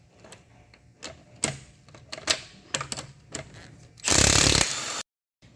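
Lug nuts on the front wheels of a 2012-2014 Toyota RAV4 EV come off with a 21mm socket in a string of sharp mechanical clicks and ratcheting bursts, followed by a loud, dense whirr that stops abruptly.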